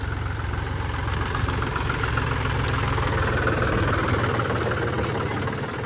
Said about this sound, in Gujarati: અને આવી ગયું ટ્રેક્ટર.